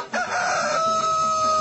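A rooster crows in one long, loud, sustained call that rises and then holds steady, with a clear tonal line carrying to the end.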